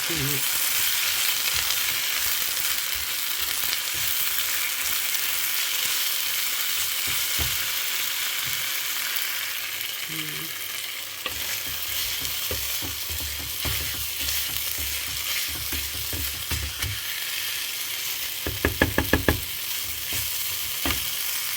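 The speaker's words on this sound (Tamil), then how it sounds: "நல்லா மசிச்சாச்சு" A spoon mashes and stirs cooked brinjal masiyal in a pan over heat, giving a continuous soft sizzle with repeated scraping and squelching strokes and a brief clatter near the end, close up and without speech.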